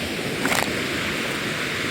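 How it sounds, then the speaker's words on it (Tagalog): Large ocean waves roll and break in a steady, loud wash of surf, with wind buffeting the microphone and a brief brighter splash near the start. "yun natin sumubok sa malaking alon na ito"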